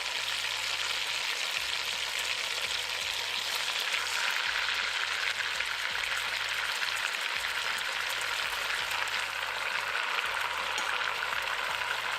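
Pieces of beef searing in a hot pan for a Mexican dinner dish give a steady, dense sizzle that holds without a break, close and even throughout, with no voices.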